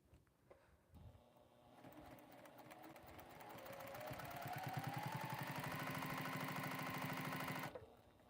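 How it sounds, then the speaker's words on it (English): A Juki sewing machine stitching fabric closed, starting after a soft click and speeding into a steady rapid whir that runs several seconds before stopping, close and moderately quiet. "And now we're going to stitch this closed."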